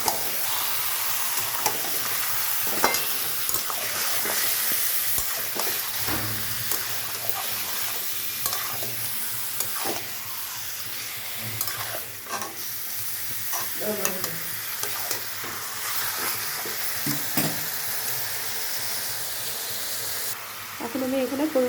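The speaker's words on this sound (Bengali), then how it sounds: "এখন আমি এটা ভালো করে কষাতে থাকছি।" Mutton stirred into spices in a hot pan while cooking a mutton jhol: a steady, close sizzle with scraping and stirring sounds running the whole way through, without pause.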